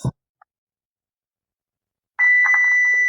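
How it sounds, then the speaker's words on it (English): A CCTV camera tester's multimeter function set to continuity sounds its buzzer when the probes touch: a short click, then a steady, loud electronic tone about a second long that holds alone in a quiet room. "the buzzer for continuity test"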